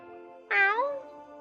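A single short, clear cat meow from Choices: Stories You Play, rising and then falling over about half a second against a quiet background hum.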